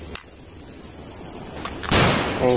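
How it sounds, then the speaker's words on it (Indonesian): A few sharp toy-pistol shots, one near the start and another in the middle, then a louder burst with a hissing tail. "Pistol."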